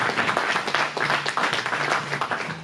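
Congregation applauding during a church service led by a pastor, with steady dense clapping throughout and faint voices mixed in beneath it.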